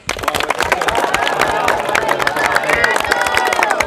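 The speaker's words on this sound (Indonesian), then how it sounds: "dengan tepuk tangan yang paling kencang bagi kita semua" High school students clap loudly together at the end of an athletics relay-running class, sharp hand claps mixed with excited cheering and crowd chatter, close and continuous.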